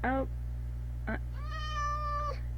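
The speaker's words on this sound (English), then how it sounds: "I have no idea where the meowing is coming from, by the way." A black cat at a witch hut in the Minecraft video game gives three separate meows, the last one longer and drawn out, heard clearly and close over a low steady hum, with no one talking over them.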